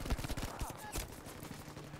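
Gunfire in the World War II shooter Battlefield V, a rapid automatic burst of sharp shots followed by scattered single cracks and a louder report, faint and somewhat distant, with muffled voices in the background.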